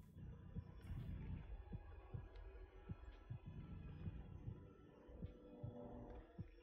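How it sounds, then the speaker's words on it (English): Low, muffled heartbeat thumps pulse steadily under a droning hum in The Outlast Trials, faint and regular with no voices over them. "My heartbeat's going up."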